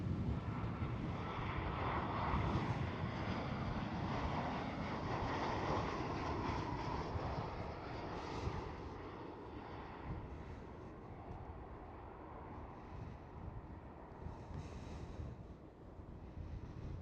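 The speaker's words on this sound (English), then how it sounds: "Next one up, Transavia 737." A Transavia Boeing 737 passes at Schiphol, its engine roar loud and steady at first, then gradually easing as it moves away, with some wind rumble on the microphone.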